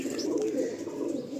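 A male Andhra lalshira pigeon coos close up, one low, rolling, sustained coo with little else around it.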